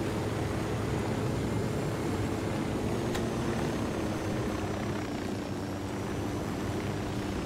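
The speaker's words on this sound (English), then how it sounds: "Ooh, they got their own helicopter too." A helicopter in the video game Ghost Recon Wildlands drones steadily throughout, a dense low rotor rumble with a faint whine above it, constant and fairly close.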